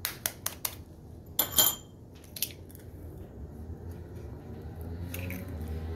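An egg goes into a chapli kabob mixture: a few sharp clicks and taps are followed by a wet squishing burst, then quieter soft handling noises, all close up with no speech.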